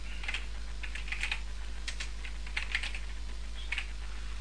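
Text is typed on a computer keyboard in short, uneven bursts of crisp, close key clicks over a steady low electrical hum.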